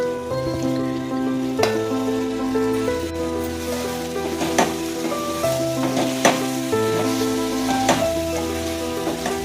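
Goat liver pieces cooking with chili powder in a tomato curry give a steady, fairly loud sizzle under a layered tonal hum, with a few sharp clinks of a spoon stirring at intervals.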